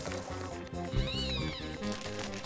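In an animated cartoon, a voice imitates a cat's meow with a short, rising-and-falling mew, set over steady background music.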